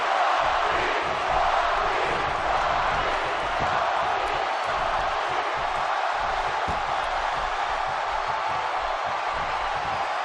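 Roaring arena crowd in a WWE 2K17 wrestling match between The Rock, The Miz and Bret Hart, a dense sustained cheer with scattered shouts and thumps.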